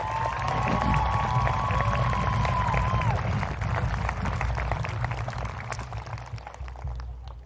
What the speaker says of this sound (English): I want everyone to give a huge round of applause for the organising committee for the work that they put in